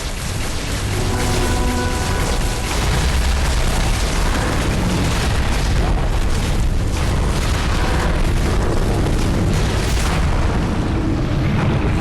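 A tower being destroyed in the video game Megalith, heard as a continuous loud roar of booming explosions and rumbling debris that fills the whole span with no pause.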